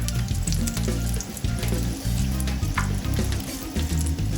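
Empanada frying in hot oil, a dense continuous sizzle with steady crackle close by, no voices.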